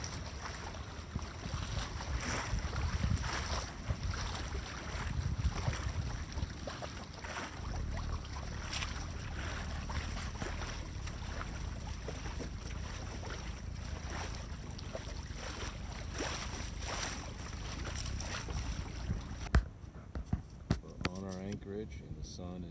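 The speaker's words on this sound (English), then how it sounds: "we're sailing along very nicely now, heading to our anchorage for tonight" A Wayfarer sailing dinghy cruises on Florida's Upper Indian River, with steady wind rush and water lapping against the hull throughout and a few knocks near the end.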